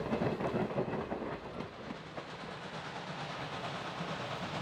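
A Reading and Northern Christmas excursion train rolls past on the rails with steady clickety-clack and a low rumble, heard at moderate distance with some faint hiss and no talking.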